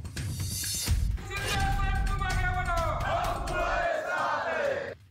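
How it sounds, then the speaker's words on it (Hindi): Shiv Sena supporters in Thane shout and chant loudly as a dense crowd, a continuous roar of raised voices with rising cries that cut off abruptly near the end. "ये ठाणे के शिव सैनिकों की आवाज है।"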